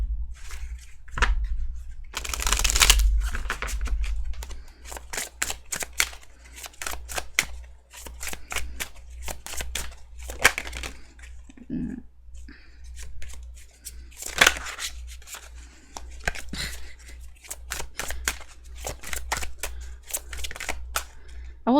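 Tarot cards are shuffled by hand in a long run of crisp, rapid riffling and flicking bursts, close and steady, with brief louder shuffles and a quiet low hum underneath.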